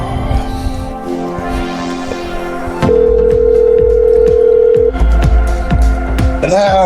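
A phone call being placed: faint tones and hum, then a steady ringback tone held for about two seconds, followed by scattered clicks and background noise.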